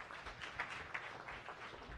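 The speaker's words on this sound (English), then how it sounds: "Let's give him a round of applause." A science café audience claps for a presenter, a faint, continuous patter of many hands with a few sharper claps, heard from across the room.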